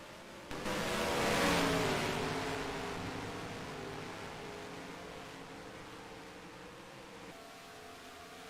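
Race cars in a sim racing game at Canadian Tire Motorsport Park (Mosport) sweep past as a broad engine whoosh that swells early, then fades into a steady, fairly quiet drone.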